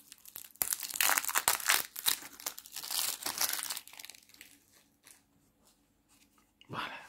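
Playing cards from a brand-new Back to the Future board game being pulled from the box, with loud crinkling of plastic wrap and card shuffling in close bursts that fade to quieter handling.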